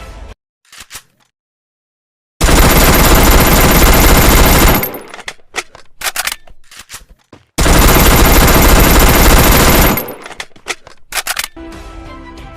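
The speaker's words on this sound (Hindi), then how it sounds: "भाई बोले हैं कि यूएमपी और वेक्टर गन का साउंड पूरा का पूरा सेम है" Automatic gunfire from UMP and Vector submachine guns in a video game: two long, loud, sustained bursts of rapid shots, separated by quieter clicks and handling noises.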